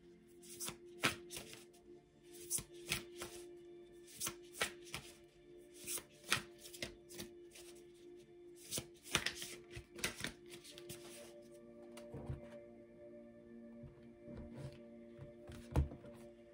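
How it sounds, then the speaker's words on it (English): Tarot cards are shuffled by hand at close range in a quiet room, giving a steady stream of soft riffles, flicks and taps at uneven intervals over about sixteen seconds. "you heard me shuffling. Whether you saw it or not, you could hear it"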